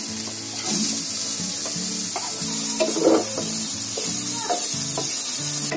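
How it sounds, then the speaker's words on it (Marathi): Chopped onion, green chili and cumin frying in a kadhai for a potato snack, giving a steady broadband sizzle with occasional spoon scrapes and clinks, close and continuous without talk. "कांदा, मिरची, जिरं हे सगळं टाकलंय, फ्राय केलंय."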